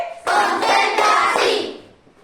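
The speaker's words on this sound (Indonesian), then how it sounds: "Tepuk 4 kali." A fourth-grade elementary school class claps in unison, giving four loud, closely spaced group claps that merge into a dense, roomy burst before fading.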